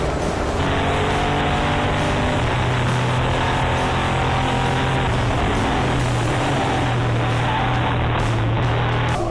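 EuroNASCAR stock race cars at full throttle on a circuit, a loud continuous engine roar with shifting pitch as cars run close together, no voices heard.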